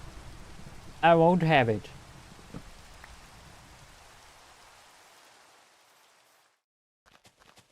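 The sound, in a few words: rain in a video game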